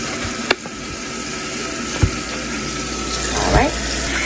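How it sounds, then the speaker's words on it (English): Kitchen tap water runs steadily over pork neck bones being rinsed in a sink, a close, continuous splashing hiss broken by a few sharp knocks of bone and hand against the basin. "go ahead and put it in some water. Go ahead and get them cleaned up."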